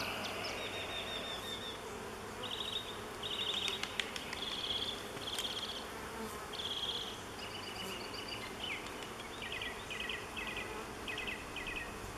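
Honey bees buzz steadily during a hive split, a close, dense swarm drone that hums on for the whole stretch with no talking.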